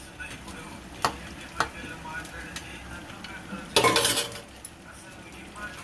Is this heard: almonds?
yes